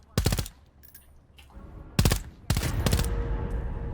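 Gunfire in the vampire battle royale game Vampire: The Masquerade - Bloodhunt, with a quick burst of rapid shots, a short pause, then two more loud bursts of fire close up, no talking.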